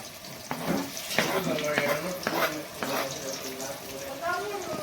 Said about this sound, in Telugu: ఆయిల్ వేసుకొని ఆనియన్స్ వేసుకోవాలి పచ్చిమిర్చి